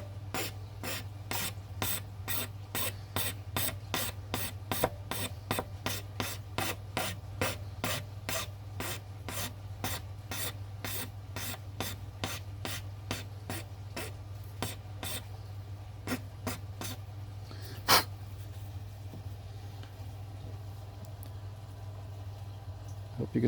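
A file bevels the top edge of a button, giving a long run of quick, evenly spaced rasping strokes, about two per second. The strokes are close and steady, slow near the end, and one louder scrape stands out.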